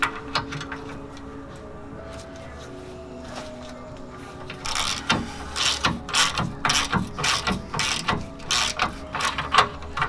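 Bolts being worked loose from the bracket of a rear bumper on a Jeep Rubicon, a steady ratcheting click that grows louder and busier in the second half, close up with no talking.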